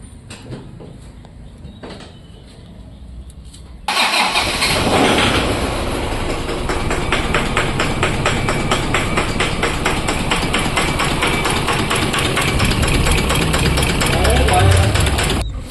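A Toyota Hilux 1KD diesel engine cranks and catches, then idles with a steady, rapid metallic knocking that repeats evenly and loudly throughout.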